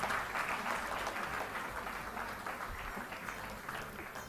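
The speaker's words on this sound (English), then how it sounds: "Please continue clapping for all the devotees." An audience at an ISKCON Bangalore closing ceremony claps steadily for devotees called to the stage, a fairly quiet, dense patter of many hands heard from some distance with no voices on top.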